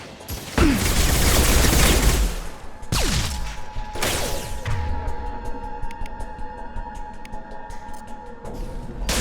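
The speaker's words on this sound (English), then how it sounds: "Shotgun!" Shotgun blasts in the video game Mass Effect 2: three loud, heavy booming shots spaced a second or two apart, each trailing off, with softer rattling gunfire and a steady tone continuing beneath.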